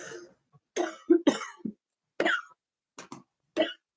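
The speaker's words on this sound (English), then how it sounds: "Excuse me, when I get overheated, I cough." A woman coughs repeatedly in a quiet room, a series of short dry bursts and throat clears spread irregularly across the pause, close and fairly loud.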